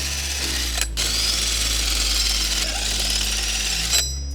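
A power tool runs steadily for several seconds as it removes the 19 mm lug nuts from a 2022 Subaru WRX wheel. The hum is loud and close, with brief breaks and a clunk near the end, and nobody speaks.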